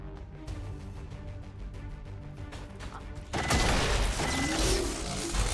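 A single regular gunshot rings out in XCOM 2 from the soldier Thanosi, a sudden loud broadband burst that cuts in partway through, over a busy bed of game music and mechanical noise.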